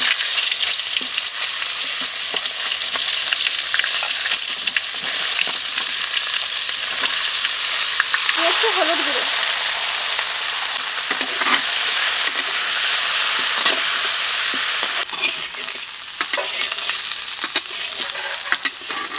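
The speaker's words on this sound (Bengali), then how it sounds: "এই তেলে ফুলকপিগুলো ভেজে নেবো" Cauliflower florets frying in hot oil after fish, a loud continuous close sizzle and crackle with occasional stirring scrapes throughout.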